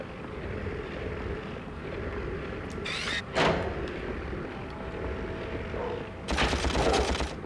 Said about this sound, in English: If you pull out your blaster, you can shoot the screamer through it